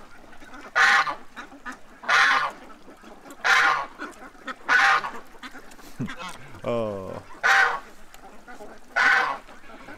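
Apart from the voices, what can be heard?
ducks and geese honking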